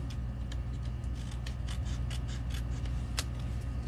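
Quiet snipping of scissors trimming a paper craft piece, a steady run of small cuts close by over a low background hum.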